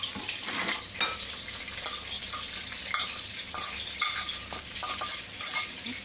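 Boiled potato and vegetables being mixed for a potato and egg salad, with a steady run of wet stirring and scraping, occasional clinks of utensil on bowl, close and fairly loud.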